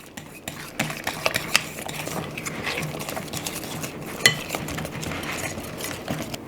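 A spoon scrapes and clinks around a bowl as gluten-free chocolate batter is mixed with honey and molasses, an irregular run of close knocks and scrapes with occasional louder taps, no voices.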